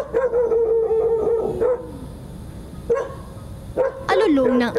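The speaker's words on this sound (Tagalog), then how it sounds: "Alulong ng asong ito ang maririnig sa buong paligid." A dog howls in long, wavering drawn-out tones, pausing between cries, with a rising, sliding howl near the end over a rough background.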